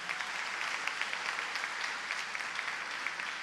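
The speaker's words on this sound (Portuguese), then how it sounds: "bata uma salva de palmas para eles." A church congregation, with the women applauding the men who came forward, gives a steady, dense round of clapping that holds at an even level throughout, moderately distant with no voices on top.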